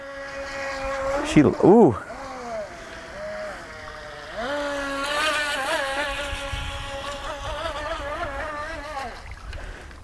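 A UDI U001 Cheerwing Venom RC racing boat whines across the water, its high electric motor pitch dipping and rising as it turns, with a brief human exclamation early on.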